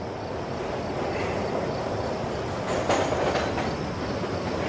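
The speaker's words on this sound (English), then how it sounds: "Train's coming." A train runs past on rails with a loud, continuous broadband rumble and faint wheel clatter, close by and steady throughout, with no voices.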